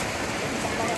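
Steady, dense rain falls outdoors during a funeral gathering at Tongkonan Layuk Tumika Lemo, an even broadband patter with faint voices beneath.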